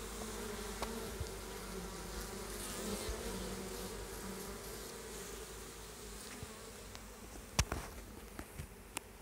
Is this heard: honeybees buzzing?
yes